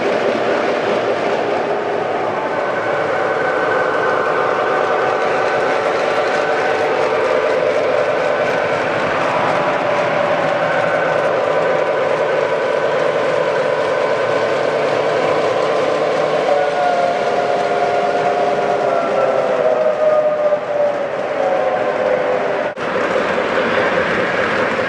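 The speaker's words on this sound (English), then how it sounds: "I'm going to have this train pull out" A Lionel O-scale model train pulls out on a home layout running a Union Pacific Challenger and a Railking F-3. The close, continuous motor whir and rail clatter last throughout, with horn-like tones partway and a brief click near the end.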